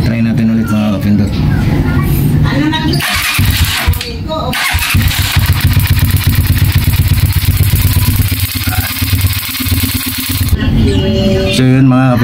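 A motorcycle engine cranks and starts, then runs with a loud, close, rough idle and revving during an ignition coil spark test, with occasional talk over the engine.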